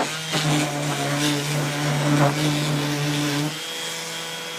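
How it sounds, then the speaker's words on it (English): A power sander works the edges of wooden cross braces for farmhouse-style shutters, giving a steady, close motor hum with a grinding buzz that cuts off just before the end. "on these, you want to sand these edges"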